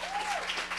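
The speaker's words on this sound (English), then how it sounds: "Let's give this young man a round of applause." A short burst of audience applause for a young student speaker at an afterschool event, dense and steady with a faint whistle or voice tone riding on top.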